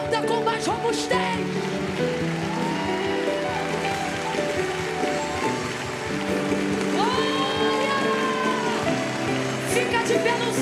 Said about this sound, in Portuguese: aplauda com mais robustez